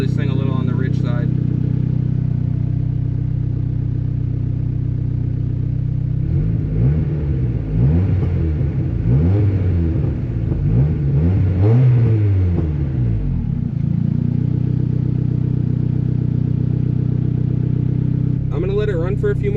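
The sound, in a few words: turbo Honda D16 engine idling and revving on ethanol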